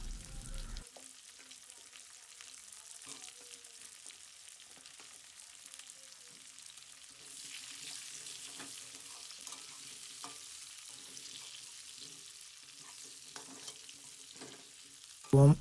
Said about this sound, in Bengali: এবার আলুগুলো ভালো করে লাল লাল করে ভেজে নেব